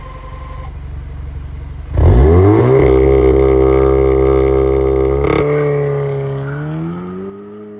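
A remapped Audi S3 sits idling, then its engine bursts into a loud rev at launch, holding a strong, steady roar with a sharp crack midway before the pitch climbs and the sound eases off.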